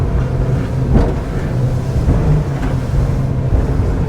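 Yamaha outboard motors pushing a Sterk 31 high-performance prototype boat at about 20 knots into the swell, a loud, steady low engine drone with wind and water rush, no talking.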